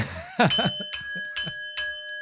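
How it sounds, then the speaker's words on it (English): A small bell rings several times in a spaced rhythm, each clear ding sustaining and overlapping the next, close and fairly loud, with a brief excited vocal sound near the start. "Ring that fucking bell."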